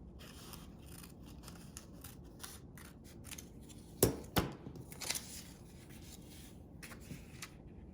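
Scissors snip through a paper shirt pattern for a doll, a faint run of small crisp cuts and rustles with a few sharper snaps near the middle, quiet and close.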